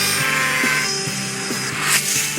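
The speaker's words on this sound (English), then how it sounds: "I sculpt ice with chainsaws, hammers, chisels for a living" An ice sculptor carves a block of ice with power tools such as a chainsaw, making a loud, continuous grinding buzz with rhythmic scraping strokes. No one speaks.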